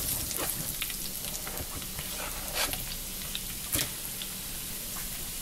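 A soy product and red peppers fry in a hot pan, giving a steady, dense crackling sizzle with a few sharper pops, close and continuous with no one talking.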